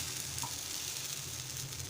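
Batter for Malvani-style amboli hits a hot nonstick tawa with a soft, steady sizzle that holds evenly throughout, close and fairly quiet, with no voices.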